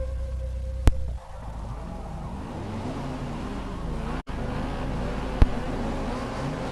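A Mazda MX-5 racing in Forza 6, its engine droning steadily with rising and falling revs as it shifts through gears, loud and continuous with a couple of sharp clicks.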